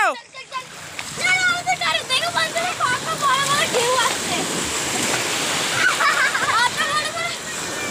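River waves slosh and splash around people bathing, with a steady watery rush under excited children's chatter and other voices close by.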